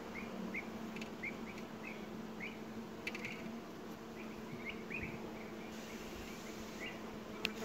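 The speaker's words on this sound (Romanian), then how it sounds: "a început și albina să mai iasă din stup" Honeybees leaving a Romanian hive as the sun comes out, a quiet outdoor buzz with short bee flights passing near, soft and low against a faint background hum.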